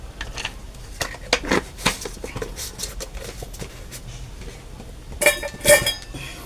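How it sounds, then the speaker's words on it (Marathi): A spoon stirs cooked mung dal in a metal pot, making clinking and scraping knocks against the sides in irregular bursts, close and fairly loud, with a quick flurry of sharper clatters near the end. "आधी मी मीठ टाकलं होतं ते मी मस्तपैकी आता डाळ ही ढवळून घेतली"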